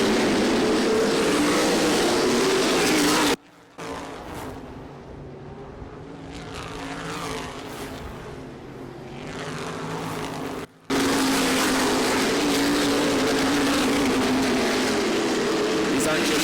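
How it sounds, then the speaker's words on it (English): Race cars, including modifieds, late models and street stocks, roar around Kalamazoo Speedway, engines droning loudly as they pass, with a voice talking over much of it and a brief drop in sound partway through. "Race cars. These are purpose-built missiles with fenders barely hanging on."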